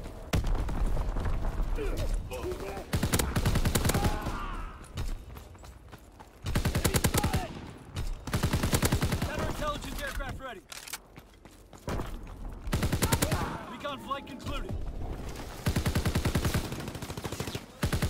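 Heavy bursts of rapid gunfire in Call of Duty WW2, loud automatic volleys and shots repeating in waves, separated by short lulls with shouted voices and footsteps.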